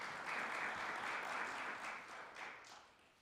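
Audience applause at a Phi Kappa Phi honors society induction ceremony, greeting the keynote speaker; a steady, dense clapping that holds for about two seconds, then thins and fades toward the end.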